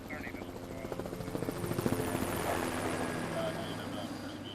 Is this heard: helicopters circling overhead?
yes